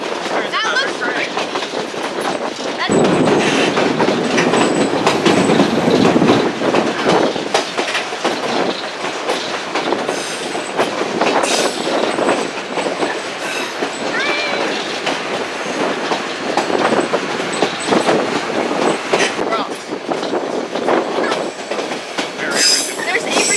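A train rumbles loudly across a trestle in Alaska, with a steady rolling roar, rhythmic clickety-clack of wheels over rail joints and occasional metallic squeals, heard close up throughout.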